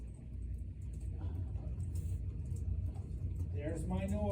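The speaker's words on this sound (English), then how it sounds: "there's that air conditioner" Steady broadband air conditioner hum played back through software, a continuous low rumbling wash of noise with a faint ticking chirp near the end.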